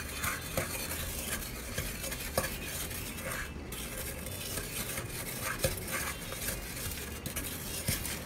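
Hair bleach mixture stirred in a bowl to a thick, creamy batter, the utensil scraping and clicking steadily against the sides in a continuous close rhythm, with no voices.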